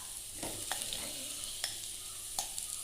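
A spoon stirs softened onions and mashed potato in a pan with a few scraping strokes over a faint, steady sizzle. The sound is quiet and close, with no voices.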